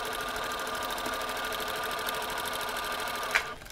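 A sewing machine runs at a steady, even pace while stitching quilt fabric pieces for a sawtooth star block, a continuous close whir that stops abruptly with a couple of clicks at the end.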